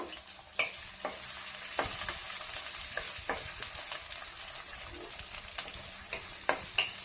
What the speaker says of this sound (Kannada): ಇವಾಗ ಎಣ್ಣೆ ಕಾದಿದೆ, ಅದಕ್ಕೆ ಹಾಕೊಳ್ಳೋಣ.